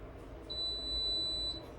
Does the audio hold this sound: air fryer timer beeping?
yes